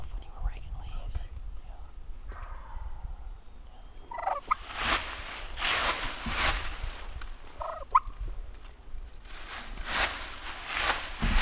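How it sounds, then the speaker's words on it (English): A wild turkey gobbles faintly in the distance on public land in Iowa during a hunt, with bursts of gobbling rising out of an outdoor background while hunters whisper and shift quietly close by. "I heard a gobble way farther off."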